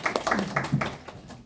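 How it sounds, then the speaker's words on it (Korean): Brief scattered applause breaks out in a Korean lecture room after a team presentation, a short, fairly close patter of handclaps that fades within a second or two. "네, 박수."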